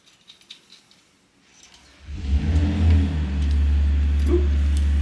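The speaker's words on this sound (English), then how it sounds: "Sounds like Chris's car." A car engine outside a workshop starts faintly, then swells into a steady, loud low rumble after a couple of seconds, with light clinks and rattles before it and a brief rising tone near the end.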